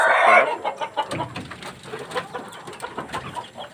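Chickens on a small bamboo-built two-tier layer farm keep up a busy mix of clucks and clucking chatter, close and fairly loud, with one bright call at the start and steady fowl noise throughout; no talking.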